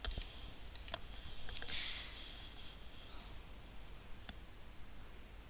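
Keystrokes and mouse clicks at a computer, entering a query in a Unity search box, with a few sharp clicks early on and a sparse tap later, faint and close under a steady hiss.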